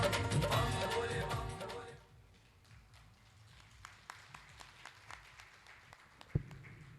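Audience applause at a religious Bhagwat katha in Ashok Vihar, Delhi, a dense burst of clapping from a crowd for about two seconds that fades out into scattered faint claps and a room murmur.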